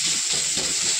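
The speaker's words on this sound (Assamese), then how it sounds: "এনেকৈ মই অকণমান ভাজি ল'লোঁ।" Greens and spices fry in a pan with a dense, steady hiss and sizzle that stays loud and close for about a second, with no voices.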